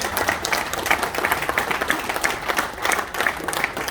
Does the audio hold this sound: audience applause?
yes